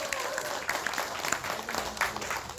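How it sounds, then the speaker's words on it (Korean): A political rally crowd in Korea claps for a former lawmaker, a few seconds of uneven applause with sharp individual claps standing out and faint murmuring beneath. "박수 한번 보내주세요."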